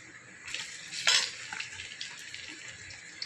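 Chopped onion dropped into a hot pan already holding cumin, coriander and black pepper, giving a steady close sizzle with a louder burst of frying near the start and faint clinks of a spoon against the pan.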